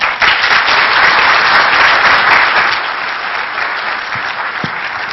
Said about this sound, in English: give a warm round of applause to Simple Nomad